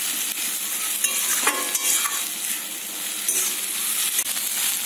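Egg and potato mixture frying in a pan over low to medium heat, a steady close sizzle with occasional stirring scrapes and light clinks, no voices.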